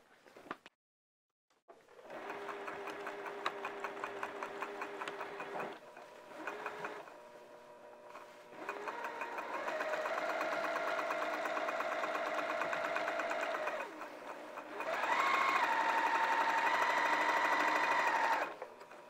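A sewing machine stitches around a flannel tunic in a steady, fast mechanical whir that runs in long stretches, with pauses, speed changes and a few short tacking passes.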